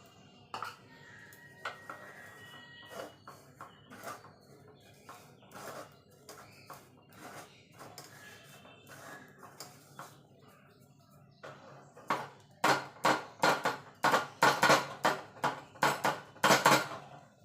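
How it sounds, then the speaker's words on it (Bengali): Gram flour (besan) is sifted through a metal sieve in a kitchen, with soft scraping at first and then a run of loud, rapid tapping knocks on the sieve rim near the end. "এবার বেসনটাকে চেলে নেব। অবশ্যই কিন্তু বেসনটা চেলে নিতে হবে।"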